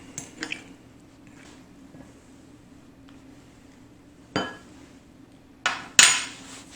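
A beaten egg being stirred into chaffle batter in a bowl, with scattered clinks and wet scrapes of the utensil against the dish. The louder knocks come near the end.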